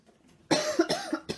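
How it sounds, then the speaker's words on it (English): Several sharp coughs burst out close by in quick succession, about four bursts after a short quiet lead-in, loud and dry against an otherwise silent room. "I apologize for the coughing."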